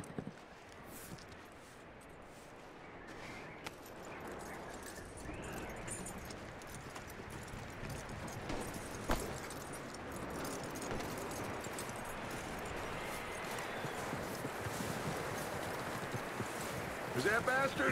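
Horse hooves in Red Dead Redemption 2 clop in a steady, faint walking rhythm amid outdoor ambience, with a few louder thuds and occasional talk.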